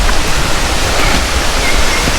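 Kamote Falls waterfall roaring as a steady, loud, dense wash of falling water, close by and unbroken, with no voices over it.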